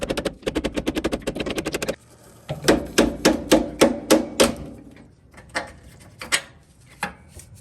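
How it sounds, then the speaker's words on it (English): Repeated sharp metallic strikes from a hammer driving a brass drift against a rear control arm bolt, first a fast burst of taps, then about eight spaced heavy blows and a few slower final taps, close and loud. "assist it with a brass drift and just pop it out. I'm going to tap this side out"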